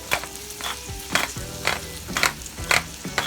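Minced meat frying in a pan with peas and black pepper, stirred with repeated scraping strokes over a steady sizzle, close and fairly loud, no voices.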